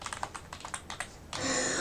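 Rapid keyboard typing on a computer, a quick run of close, crisp keystrokes that gives way to a denser hiss of sound.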